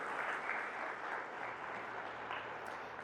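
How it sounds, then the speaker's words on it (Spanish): Congregation applause in a church, sustained clapping from many people that stays fairly quiet and distant, an even roar of hands with no speech on top. "Sí, dale un aplauso a Jesús."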